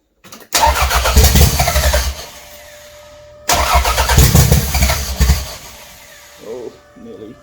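A turbocharged Toyota MR2 rat rod engine cranks and catches twice, each time a loud rough burst of combustion that fades to a quieter running sound, with brief voices near the end.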